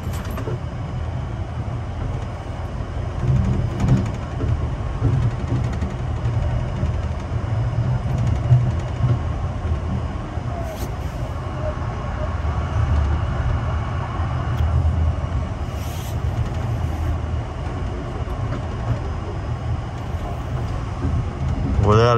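An Amtrak train on the curving Northeast Corridor line near Washington Union Station gives a steady low rumble and rolling wheel noise throughout, with voices and a station announcement heard over it.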